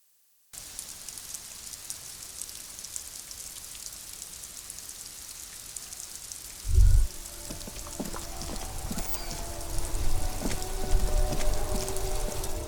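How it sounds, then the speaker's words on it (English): Steady rain pours over the great city of Rivershore in the video game Disco Elysium, a dense even hiss that fills the whole stretch, with a low thump and faint dripping accents joining partway through. "All around you, rain falls on the great city of Rivershore."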